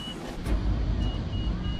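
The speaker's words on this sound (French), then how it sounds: "Je suis à côté de la grue et j'entends les alarmes qui sonnent." A heavy crane's overload alarm sounds in a series of thin, high beeps that repeat over a loud, steady engine rumble close by.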